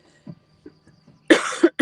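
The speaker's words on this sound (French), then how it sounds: "j'ai le nez qui coule et j'ai la gorge qui tousse" A person with a pollen-irritated throat coughs twice in quick succession, loud and close, after a few faint breaths or throat sounds.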